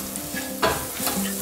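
Microplaned garlic fries in a pan, giving a steady close sizzle with a brief stirring scrape partway through.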